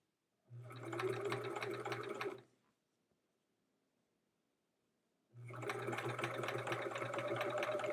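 Sewing machine stitching a scant quarter-inch seam on a block for an embroidery quilt project, running steadily in two bursts of about two seconds and three seconds with a quiet pause between, close and fairly loud.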